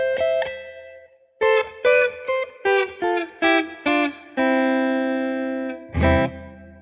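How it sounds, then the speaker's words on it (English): Distorted electric guitar, played through a Sound Stone sustainer, plays a series of short chords, then one long sustained note that rings on with reverb before a final struck chord. "You're mostly hearing reverb popping out and making the note sound like it's carrying on."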